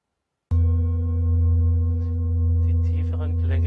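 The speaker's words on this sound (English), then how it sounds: "The lower tones, which now evolve from the bowl, correlate with the region" A Tibetan singing bowl, moved over the lower back during a massage, rings with a deep, steady sustained tone and shimmering overtones, starting suddenly after a moment of silence and holding loud throughout.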